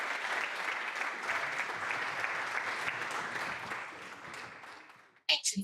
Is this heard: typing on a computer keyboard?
no